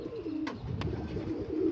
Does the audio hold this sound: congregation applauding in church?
no